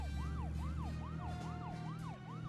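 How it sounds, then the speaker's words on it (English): Video game emergency vehicle siren with a rapid repeating up-and-down wail over a low engine hum, fading briefly near the end before a sharp click. "Don't you honk at me, I got a siren."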